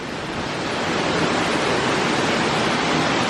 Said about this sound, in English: right here next to this waterfall that spills off the side of the tree